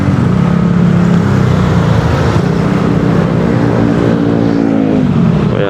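Road traffic crawling along a street under repair, with a loud, steady engine rumble from vehicles close by that runs without a break.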